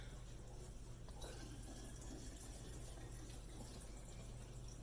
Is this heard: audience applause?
no